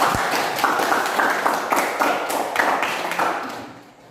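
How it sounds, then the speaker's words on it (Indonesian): Schoolchildren in a classroom clap their hands in a steady group round of applause, fairly close and loud, fading out at the end. "Tepuk tangan dulu"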